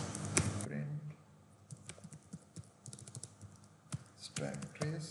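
Computer keyboard typing code, irregular close key clicks and taps in uneven bursts, with brief spoken words mixed in among the keystrokes.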